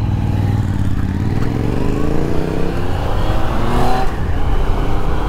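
A car fitted with a Yamaha MT-09 motorcycle engine accelerates hard, its nervy, buzzing engine note climbing in pitch. The sound stays close and loud without a break, with no speech.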